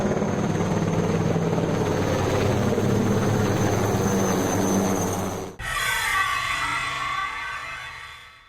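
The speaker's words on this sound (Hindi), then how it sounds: "जहां MI-17 विमानों ने फूल बरसाकर कोरोना कर्मवीरों का सम्मान किया" Mi-17 helicopters fly overhead in Ahmedabad while showering flowers. A loud, steady rotor roar fills the air, briefly cuts and returns, then slowly fades.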